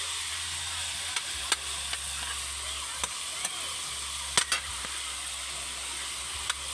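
Chopped garlic sizzles steadily in a frying pan, with a few sharp scrapes and clicks as it is stirred.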